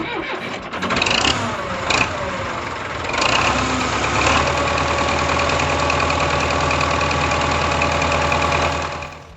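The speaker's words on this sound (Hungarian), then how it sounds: "érdemes pár percig járatni a motort" A Belarus 820 tractor's diesel engine cranks and catches after a few starter bursts, then settles into a steady, loud, close idle with a rough knocking rhythm until the end.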